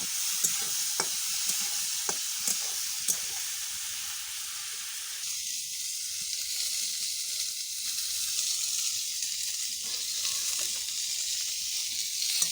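Mixed vegetables with peas and potato frying in a pan, a continuous close hiss of sizzling oil with faint stirring scrapes, steady throughout and without talk.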